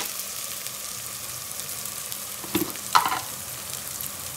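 Onions and ginger frying in a pan, a soft steady sizzle with a couple of brief stirring clinks near the end.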